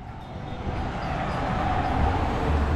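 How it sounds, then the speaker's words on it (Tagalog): Train passing in Key West, Florida, a steady low rumble and rolling rail noise heard from nearby outdoors, growing slightly louder toward the end, with no talk over it. "Yeah, may tren oh."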